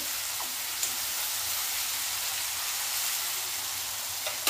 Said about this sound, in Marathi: टोमॅटो मऊ होईपर्यंत आपल्याला छान भाजून घ्यायचं आहे।